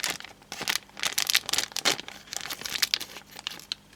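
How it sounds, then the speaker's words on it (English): Plastic packaging for Mantic Nightstalker miniatures crinkles and tears as scissors cut into it, giving a dense run of close, crackly rustles and snips that continue throughout without talking. "Aha, my scissors. This will work better."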